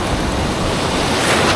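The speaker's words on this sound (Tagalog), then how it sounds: "Ayan, sinalubong agad tayo ng mga malalaking alon." Big ocean waves break and roar continuously at high tide on a rocky shore, a loud, steady wash of surf with wind buffeting the microphone.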